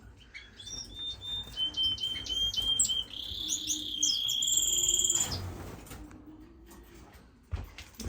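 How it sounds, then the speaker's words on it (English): Diamond doves and other cage birds in an indoor bird room, with bright repeated chirps and whistled calls overlapping throughout, a busy chorus that swells mid-clip and tapers off near the end. "I got my diamond doves in here."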